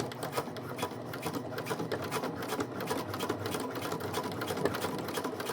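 Sewing machine stitching a small fabric tab for a lip balm holder, with a short back tack at each end; steady rapid mechanical chatter running continuously, close and fairly quiet, with no talking.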